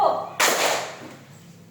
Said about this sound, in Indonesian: Tepuk tangan 1.